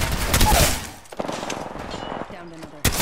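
Video game gunfire as a quick rattle of shots up close, followed by scattered sharper cracks, mixed with a voice speaking.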